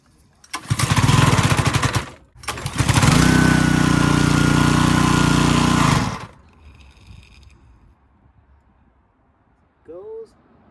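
A small roadside pressure washer engine runs loud and rough in two bursts, stopping briefly before restarting and then cutting out, leaving quieter rumble and a brief voice at the end.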